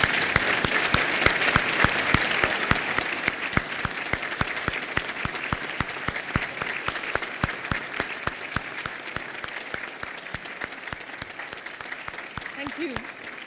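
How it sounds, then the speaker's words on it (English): Standing ovation at the Governor General's Awards ceremony: a large audience claps in a dense, sustained burst that holds steady throughout and eases slightly toward the end. "I would like everybody to please stand up and applaud you for everything you've done"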